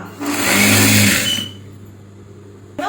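A sewing machine stitching a pillow cover runs in one steady whirring burst of just over a second, loud and close, then drops to a low background hum.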